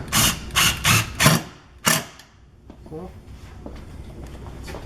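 Screws driven into an aluminium sliding door rail, five loud close whirring bursts from a power driver in quick succession, then quieter handling noise with a faint voice.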